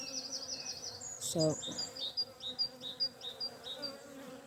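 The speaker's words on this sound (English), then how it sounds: "there's a few bees still buzzing around me because they see you as a threat" Honey bees buzz around an open hive in an Irish apiary in spring, a close, wavering drone that swells and fades in repeated pulses as individual bees fly past, with a brief spoken word partway through.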